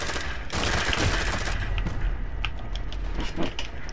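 Call of Duty gunfire rattles out in a dense burst of rapid shots at close range, then gives way to scattered thuds and mechanical clatter.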